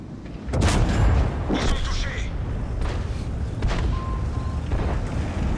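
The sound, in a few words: tank gun firing in video game World of Tanks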